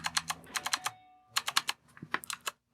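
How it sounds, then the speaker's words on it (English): Typing on a PICTEK budget mechanical gaming keyboard with blue switches: loud, clicky keystrokes in two quick bursts separated by a short pause, close up with no voices. "It's blue switch, so you can really hear that tactileness."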